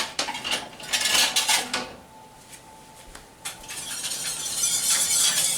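A spoon clatters and scrapes against a metal pot while stirring nutmeg and clove into a warming holiday mixture, bursts of clinking broken by a quieter pause before the scraping resumes.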